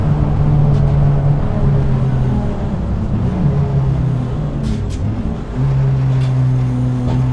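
A Renault R21 Turbo Europa Cup race car with 300 hp through the front wheels, heard from inside while driving, gives a steady, loud engine drone that holds throughout with slight shifts in pitch.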